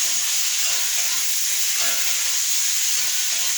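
Potatoes and ridge gourd frying with spices in a pan, a loud, steady sizzling hiss throughout, with soft stirring underneath and no talk.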